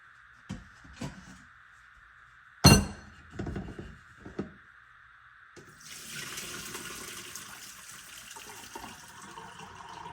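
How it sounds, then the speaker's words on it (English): Juice from a pan of soaked chili ingredients is strained off into a sink, with a few clinks and thunks before a steady pour of running liquid takes over, close and without talk. "There's a bit of juice in here that I want to get rid of, so I'm just going to strain it out."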